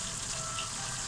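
Pork chow mein sizzling and frying steadily in a hot pan, a continuous close crackle and hiss with no talking.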